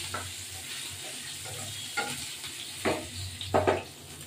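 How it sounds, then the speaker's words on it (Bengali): Pointed gourd and potato pieces frying in oil in a pan, giving a steady soft sizzle broken by a few louder stirring scrapes toward the end. "পটল আলুগুলো ভাজা হয়ে গেছে, এবার এগুলো তুলবো।"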